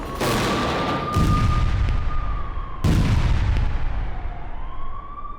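Gaza under Israeli bombardment: two heavy explosive blasts boom out over a continuous wailing siren, loud, dense and sustained, with rumbling decay between impacts.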